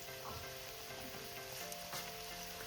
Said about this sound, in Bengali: এবার আমি তেলের পরে আলুটাকে একটু ভেজে নেবো